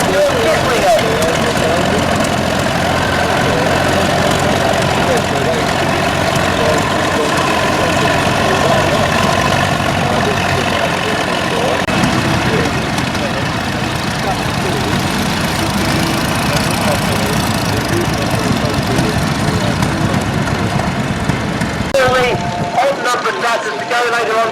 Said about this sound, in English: a Nuffield Universal 3 of 1959 owned by Dean Foster Kislinger